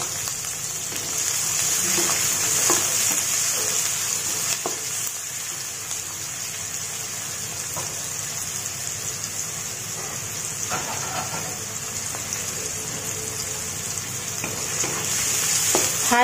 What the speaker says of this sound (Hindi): हाई फ्लेम पे प्याज को डार्क कलर आने तक प्याज को भून लेंगे।